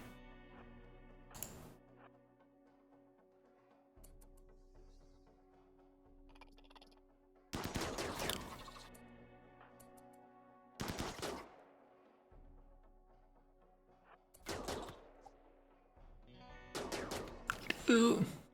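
Gunfire from RimWorld combat, several short loud bursts spaced a few seconds apart over a quiet ambient background with faint tones.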